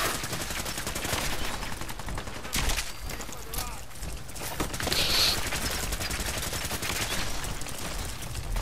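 Gunfire in Fallout 4 during a battle at the Castle, with dense bursts of shots and sharp cracks over constant loud background noise.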